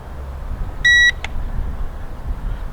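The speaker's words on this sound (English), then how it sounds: "Well, it beeped." A drone's controller or aircraft gives a single clear electronic beep followed by a short faint blip, against quiet outdoor background noise.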